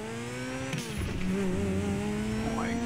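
A Grotti Turismo R hypercar, modeled on the Ferrari LaFerrari, accelerates hard in GTA 5 Online, its engine note climbing steadily through the gears with a brief shift dip and a faint tire squeal near the end.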